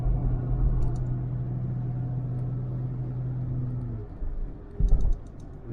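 A steady low engine rumble from inside a moving Nissan Skyline R31 wagon with an RB engine, droning evenly, then dipping briefly before a short surge near the end.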